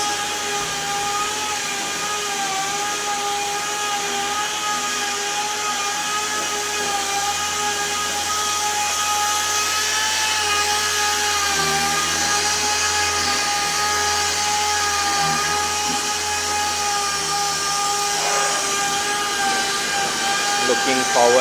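Body filler on a 1970 Datsun 240Z is sanded smooth with a power sander, a continuous high whine droning steadily for the whole stretch.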